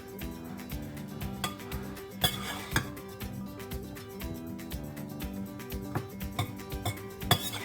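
A spoon scrapes and clinks against a bowl while apple cranberry turkey salad is stirred with light mayonnaise, irregular close taps and rattles over a soft mixing sound, with no talking.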